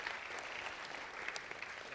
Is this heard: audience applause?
yes